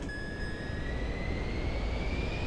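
Pilatus PC-24 business jet engines spooling up to full throttle in Microsoft Flight Simulator 2024 on a dirt strip in Papua New Guinea, a steady loud roar with rising turbine whine throughout, no talking.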